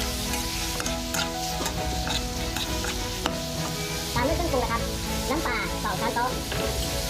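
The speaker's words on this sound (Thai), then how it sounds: "ตามด้วยหมึกกุ้งนะครับ เร่งไฟนิดหน่อย" Squid and shrimp stir-fried over high heat in a field kitchen for a seafood holy basil dish, with steady sizzling and stirring throughout and clanking metallic scrapes near the end, under music or background sound.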